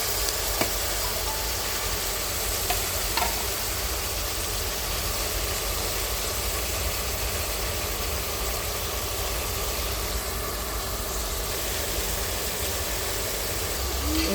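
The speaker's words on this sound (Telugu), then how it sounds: "ఇలా అన్ని వెజిటేబుల్స్ వేసిన తర్వాత ఒకసారి కలుపుకోవాలి." Vegetables, onions among them, fry in a pan and are stirred, giving a steady, close, continuous sizzle with faint scraping throughout and no talk.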